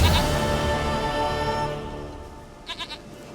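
A goat bleats in The Witcher 3 video game, with a short wavering cry at the very start and a quick three-pulse bleat near the end, set against a steady low ambient game backdrop.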